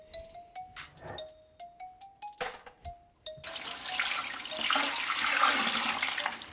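Water rushes steadily into a home-canning autoclave as a close, broad splashing hiss. It follows a string of short tonal beeps.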